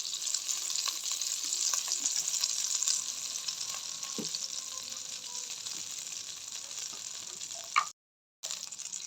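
Leftover oil from frying shrimp sizzles in a pan while pulao is being prepared, a soft, continuous frying hiss with occasional small pops and a brief dropout near the end, no talking.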